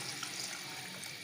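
One glass of water pours steadily into a pan of mango dessert mixture tinted with a pinch of yellow food colour, giving a continuous close splashing rush with no voices.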